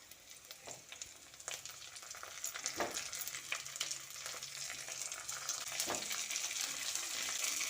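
Whole washed tomatoes dropped into onions frying in hot oil, a steady close sizzle with a few sharp splashy bursts and stirring scrapes as they hit the pan.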